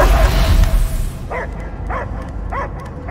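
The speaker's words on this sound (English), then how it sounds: "I hear only barking." A dog in the Guardians of the Galaxy video game gives several short yips or barks, spaced about half a second apart, under heavy music and game ambience; a voice talks at the start.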